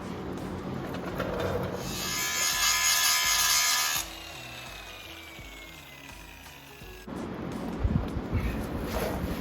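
A small handheld angle grinder grinds metal during trailer repair work, a loud steady high whine with dense bright hiss for several seconds, then dropping away into quieter workshop noise and knocks.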